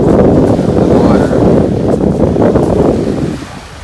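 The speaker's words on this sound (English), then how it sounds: "So we're down at the beach today." Ocean surf rolls steadily at a sunny beach near a ferry landing, a loud, continuous wash of waves mixed with wind buffeting the microphone, easing slightly toward the end.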